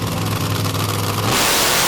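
Drag car engine at a wheelie competition at KC Raceway in Waverly, Ohio, holding a loud steady rev before abruptly launching into a harsh, broadband roar, with no talk.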